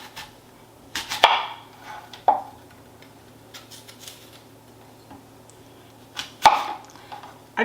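Apples are chopped into smaller pieces with a knife on a cutting board: a few sharp, close thuds at irregular intervals, separated by quiet pauses.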